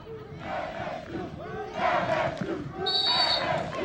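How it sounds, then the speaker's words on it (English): A large college football stadium crowd chants LSU in loud, rhythmic bursts, a massed roar of voices rising and falling across the stands at an all-star game. "Chance of LSU coming down, Bill, from the crowd."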